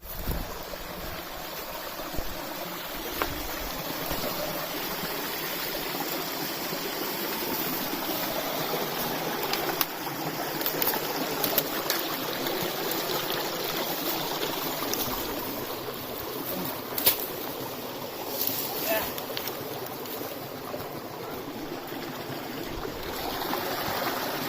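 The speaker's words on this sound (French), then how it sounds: "Faut traverser la petite rivière par contre." A small river flows through woodland, a steady broadband wash of running water that stays even and fairly close throughout, with a few faint clicks and rustles but no voices.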